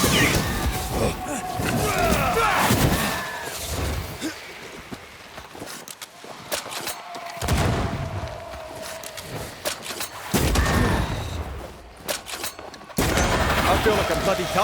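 Gunfire from the video game Banishers: Ghosts of New Eden, with repeated sharp shots and bursts over a busy game soundscape, while people talk in between.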